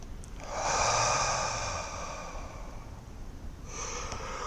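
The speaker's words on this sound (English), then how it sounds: "Let's just do one deep breath to kind of center ourselves," A deep breath drawn in through the nose and let out through the mouth during a meditation: a long, soft, airy rush that swells and fades, followed by a quieter breath near the end. The breathing is close and there is no talk.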